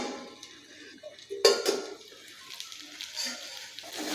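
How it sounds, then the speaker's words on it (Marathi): A lid lifted off a pan of ragi (finger millet) upma cooking over a low gas flame gives one sharp metallic clink and brief clatter, followed by quieter kitchen rustling. "आता आपण ह्याच्यावरचं झाकण काढूया"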